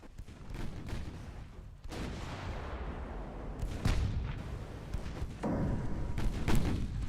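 A battleship's 13-inch guns fire in a naval warfare game, heavy booming shots and rumbling impacts recurring over several seconds amid constant low battle din, fairly faint overall.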